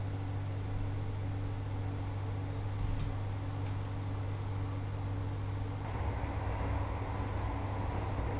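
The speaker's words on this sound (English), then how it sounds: "Probably just gonna let the train cruise along now." Northern Class 158 Sprinter train cruising in Train Simulator, a steady low rumbling drone of engine and rail noise with a slight shift in tone near the end, no talking.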